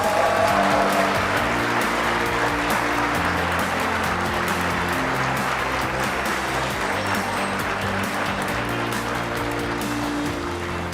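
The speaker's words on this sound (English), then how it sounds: "Please give a round of applause to this year's winner." Audience applause at a vehicle-engineering competition awards ceremony, steady clapping sustained for about ten seconds with music playing underneath.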